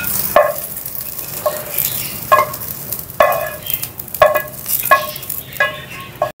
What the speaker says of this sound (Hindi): इनको भी साथ ही हम फ्राई कर लेते हैं